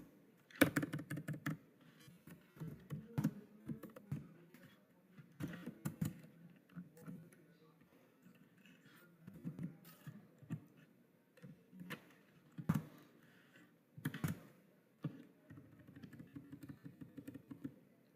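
Computer keyboard typing in bursts of quick, soft clicks with short pauses between, close and quiet, with faint background hum.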